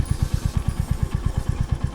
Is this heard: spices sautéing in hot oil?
no